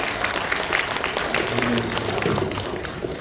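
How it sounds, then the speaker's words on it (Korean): A church congregation claps together during a worship service, a dense, fairly loud patter of many hands. Scattered voices mix in underneath. "우리 하나님께 영광의 박수 다시 한번 힘차게 드리겠습니다"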